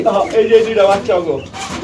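Pigeons at a pigeon farm coo softly and repeatedly close by, low throaty calls overlapping with a person talking.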